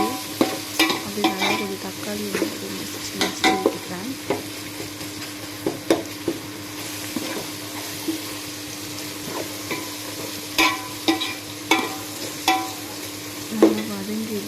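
Onion and tomato sautéing in a pan for a fish curry, a steady low sizzle broken by irregular spatula scrapes and knocks against the metal, close by with no voices.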